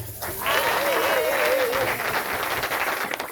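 An audience in a French-speaking church gathering at an Easter service breaks into sustained applause, a dense wash of clapping with a voice singing or calling out over it.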